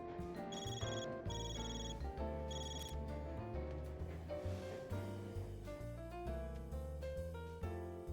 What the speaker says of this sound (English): What was the phone call?